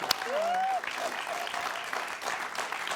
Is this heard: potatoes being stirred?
no